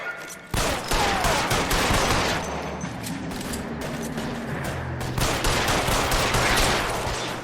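Gunfire in a shootout in the game L.A. Noire: rapid, loud volleys of shots crack close by in dense, overlapping bursts with brief pauses, over a low background rumble and no speech.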